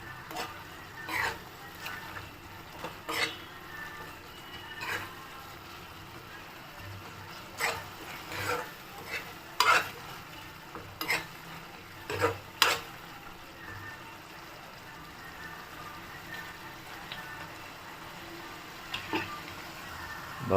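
Tomato curry simmers and sizzles in oil in a pan, a steady frying hiss with scattered soft pops and bubbling bursts at moderate volume.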